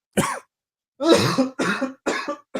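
Four separate coughs, the first short and the next three close together after a pause, loud and near with no other sound.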